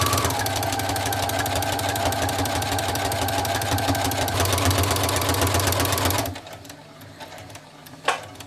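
A sewing machine stitches a straight quilting line at a fast, steady mechanical clatter for about six seconds, then stops, leaving quiet room tone and a faint click.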